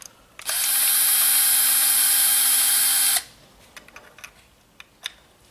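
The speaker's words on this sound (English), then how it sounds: "I like to use a handheld power drill," A handheld power drill whirs steadily at high speed for about three seconds while taking apart a Leviton plug, then stops, followed by faint clicks and small handling knocks.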